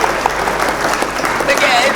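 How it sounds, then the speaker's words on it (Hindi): An audience applauds at a Hindi comedy poetry show, a dense, loud wash of clapping that fills the whole moment, with a voice briefly heard under it. "देखिए, इतनी तालियों में मैं कविता नहीं पढ़ता हूँ।"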